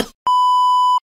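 A phone alarm gives a single long, steady electronic beep that holds for about three-quarters of a second, loud and clear with nothing else sounding over it.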